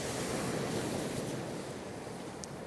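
Wind gusts across a seaside campsite, a steady broadband rushing roar buffeting the microphone, with surf-like wash close and continuous and no talk.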